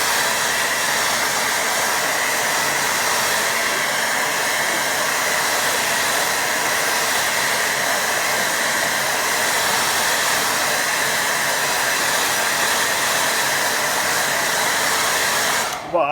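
A hair dryer runs steadily for about sixteen seconds, drying a layer of watercolour paint on a painting of cows in a field. The whoosh is loud and close with no pauses, cutting off right at the end.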